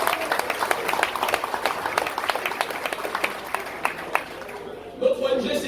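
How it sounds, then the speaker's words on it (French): A café philo audience applauds with evenly spaced, fairly crisp claps that fade gradually, and a voice comes in near the end. "que je vous demande d'applaudir s'il vous plaît"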